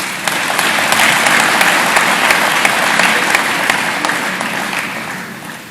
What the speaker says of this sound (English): can we please give a big round of applause to our social partners?